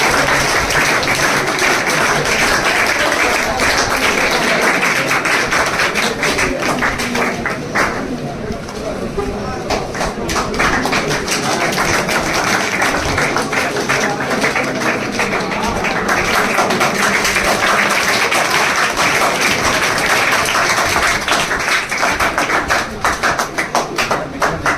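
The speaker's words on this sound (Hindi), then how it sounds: "शाहरुख के लिए ताली हो जाए" Applause from an assembled crowd at a ceremony honouring selected Agniveer army recruits, steady dense clapping sustained throughout, with background chatter and talk mixed in.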